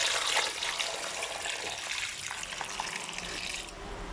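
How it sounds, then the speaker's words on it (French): Water pouring into a cooking pot, a close, steady gushing splash for about four seconds that cuts off abruptly near the end. "Je mets de l'eau."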